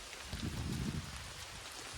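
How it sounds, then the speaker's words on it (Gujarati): Steady rain falling outdoors during a roadside trip in Gujarat, a soft continuous patter with a slightly denser burst partway through, fairly quiet and without voices. "વરસાદ ચાલુ થઈ ગયો છે ભાઈ"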